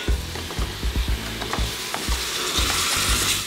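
Chickpeas being stirred into a pot of harira with meat, coriander, parsley and celery, giving repeated close scraping and clunking strokes over a steady sizzling hiss, with no talk.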